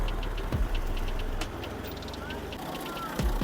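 A tractor arrives in a village to pull out a brick-carrying feeder truck stuck in a drain. Its engine gives a steady low diesel rumble throughout, and people talk over it.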